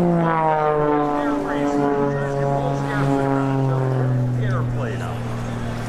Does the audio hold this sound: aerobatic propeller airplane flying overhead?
yes